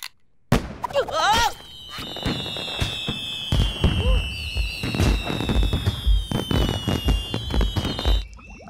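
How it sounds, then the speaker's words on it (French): Fireworks crackling and popping in dense bursts, with whistling rockets streaking upward and loud bangs throughout, close and energetic. "Des feux d'artifice? Des fusées?"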